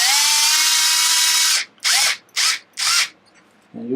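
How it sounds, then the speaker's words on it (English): Power drill on low torque tightens screws on an RC car differential: one long steady whir, then three short bursts as the screws snug down, loud and close. "usually my drill will stop when it gets to that point because it's put it on low torque"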